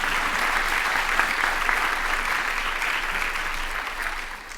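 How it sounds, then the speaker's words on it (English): Steady audience applause fills the room at a peace awards ceremony, a dense, even wash of clapping that holds at full strength before easing slightly toward the end, with no voices over it. "Let's give a round of applause."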